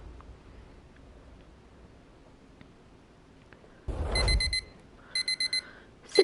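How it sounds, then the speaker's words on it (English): An electronic alarm clock radio beeps in the video game Datez, in two bursts of rapid high-pitched pulses after a rustling thump, clear and close against quiet background hiss. "The alarm clock in your room does its best to keep you from missing your first day of school."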